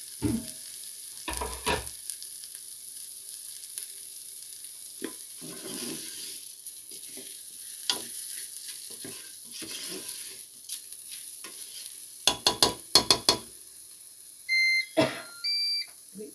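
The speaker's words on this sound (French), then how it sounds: "je vais mettre 120 g d'ébi. On va aussi faire revenir un petit peu, que ça prenne bien le goût" Dried shrimp sizzle softly in a frying pan while a utensil scrapes and stirs them now and then; a few electronic beeps sound near the end.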